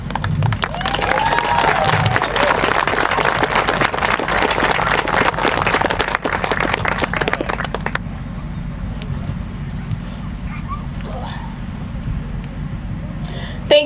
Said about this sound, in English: Yeah, another round of applause.